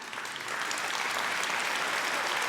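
Audience at a Polish election campaign event applauding for Kasia, dense sustained clapping from a crowd that swells after a brief softer start and stays loud.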